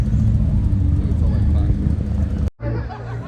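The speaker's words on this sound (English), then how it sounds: "Here's a quick little M3 pulling by." A BMW M3 pulls past at a cars and coffee meet, its engine and tire noise loud and close for over two seconds before cutting off abruptly, with a brief quieter tail and crowd chatter underneath.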